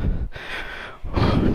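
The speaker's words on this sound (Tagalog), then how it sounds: "Hingalin pa naman ako mga idol pag ganito." Heavy, close panting from a delivery rider after climbing stairs to a fifth floor with no elevator, three loud breathy bursts in quick succession with no talking.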